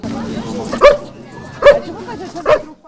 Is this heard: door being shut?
no